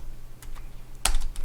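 Computer keyboard typing while Java code is written in an IDE: a few scattered light key taps followed by one sharper, louder keystroke cluster, close and dry with no voices.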